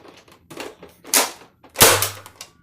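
Nerf Rival shotgun toy gun being loaded, giving three separate plastic clacks and snaps that grow louder, the final one a sharp, loud pump-like clack with a brief low buzz after it.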